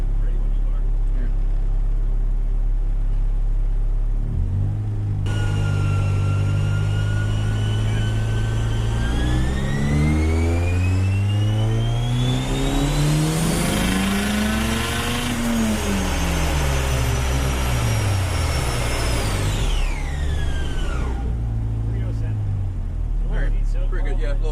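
A turbocharged car engine is run on a dyno in a loud, close pull: the revs climb steadily to a high whine, hold briefly, then drop away as the engine winds down.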